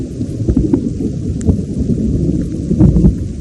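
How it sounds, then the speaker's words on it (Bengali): Thunder rumbles low and heavy over steady rain in the Bandarban hills, with no one talking. A few sharper cracks stand out against the continuous roar. "বজ্রপাত হচ্ছে"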